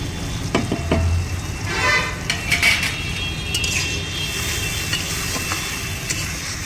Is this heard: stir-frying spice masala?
yes